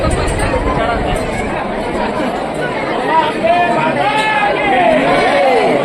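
A huge crowd of pilgrims packs the Vani Gad hill temple, a dense, steady babble of many voices filling the space, with a few nearer voices rising above the constant hubbub.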